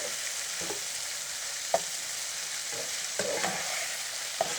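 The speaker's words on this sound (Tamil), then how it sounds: "கோவக்காயை சேர்த்ததுக்கப்புறமா நல்லா வதக்குறோம்" Ivy gourd stir-fries in a pan, giving a steady, moderate sizzle broken by the occasional scrape and clink of a spatula, close by and with no voices.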